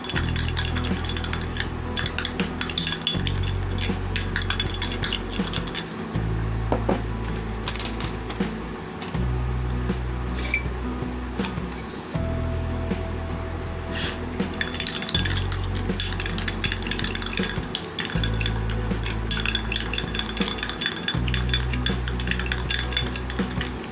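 A spoon stirs homemade aloe vera massage cream in a bowl, giving repeated clinking and scraping strokes in a regular rhythm over a low steady hum, close and fairly loud throughout.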